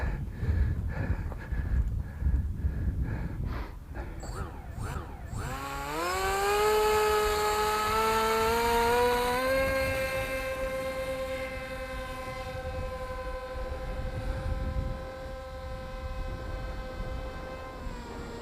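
An RC plane's motor spools up into a steady high-pitched harmonic whine as it takes off and flies, holding a fairly constant tone over faint outdoor noise.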